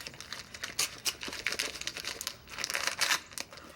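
Crinkly Christmas gift wrapping paper being torn and unwrapped in a living room, a steady run of loud crackling crumples and short rips for several seconds, with no talk over it.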